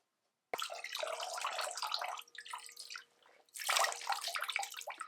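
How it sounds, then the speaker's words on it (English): Hair dipped into a bowl of water with the head flipped over: sudden splashy sloshing and dripping in two bursts separated by a brief quieter moment, close and fairly loud, with no talk. "I'm just going to flip my head over, dip it into this bowl of water"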